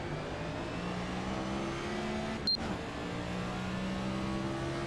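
Next Gen race cars revving and accelerating at New Hampshire Motor Speedway in a racing video game, a steady loud engine drone with rising harmonic tones and a brief click midway, no talking.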